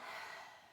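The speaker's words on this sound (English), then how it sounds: "Big breath in" A deep inhalation during a yoga sun salutation sequence, a single soft, airy breath drawn in close to the microphone over less than a second, fading slightly toward the end with no talking.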